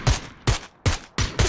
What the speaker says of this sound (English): I just got sniped from somewhere.